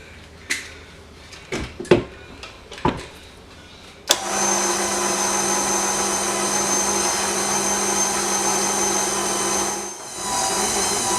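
A few clattering knocks, then an electric mixer's motor whirs loudly and evenly for several seconds mixing bread dough, dipping briefly near the end before resuming.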